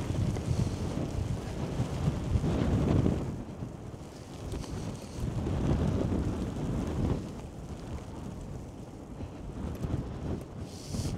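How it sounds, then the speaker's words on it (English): Strong wind roars through a snow-covered courtyard surrounded by skyscrapers during a snowstorm, surging and easing in loud gusts with heavy buffeting on the microphone and no speech. "And wow, the wind here is ridiculous."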